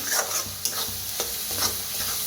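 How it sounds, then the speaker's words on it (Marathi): Onion, garlic and whole spices for a Kolhapuri-style village chicken masala are roasted in a pan, giving a steady close sizzle broken by a few scraping stirs. "कांदा लसूण जे खडे मसाले सगळे असतात तर चांगलं भाजून घेऊया"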